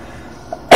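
A single sharp, loud sneeze bursts out abruptly at the very end after a quiet moment.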